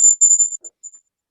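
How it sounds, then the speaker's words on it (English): Faint, high whistling drifts in the background in a few short, breathy bursts, the first longest and the rest fading to brief wisps before silence. "There was a bit of whistling in the background"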